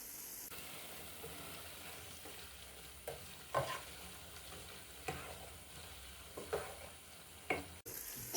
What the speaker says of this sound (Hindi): अब चिकन को 3 से 4 मिनट भून लेंगे।